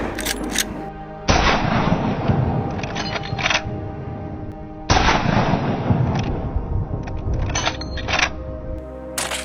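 Gunshots fired at a herd of wild boars during an early winter hunt: two loud, sharp blasts a few seconds apart, each followed by a long rolling echo and outdoor noise, with no talking.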